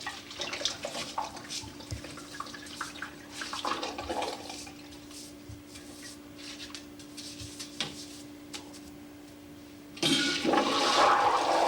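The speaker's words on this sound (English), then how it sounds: "Make sure you flush it very well, whereby you can raise all the chemical away." A toilet being flushed during cleaning with chemicals: scattered splashing and trickling water at first, then a loud rushing flush surges in near the end, close by.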